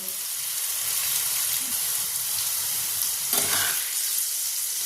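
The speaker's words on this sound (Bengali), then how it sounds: "এবার গ্যাসের ফ্লেমটাকে হাই করে আমি এটাকে এই 1 মিনিটের জন্য একটু ভেজে নিই।" Chicken liver fries over a high gas flame in a steady, close hiss, with a brief louder burst of sizzle and stirring near the end, no speech.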